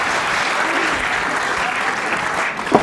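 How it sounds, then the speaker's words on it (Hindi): Audience applause fills a poetry recital pandal, a steady dense wash of many hands clapping, loud and continuous, with a faint voice near the end. "ताली बजाओ"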